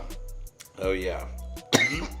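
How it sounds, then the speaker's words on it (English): A person coughs after a big dab hit, with a couple of harsh, raspy close coughs and throat clearing broken by short gaps, and voices talking around them. "I'm coughing because I took such a big hit"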